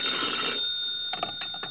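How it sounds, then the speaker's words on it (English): A telephone ringing in a 1951 old-time radio detective drama: a bright, continuous electric bell tone, then a short pattern of separate rings. "10 minutes later, I got a phone call."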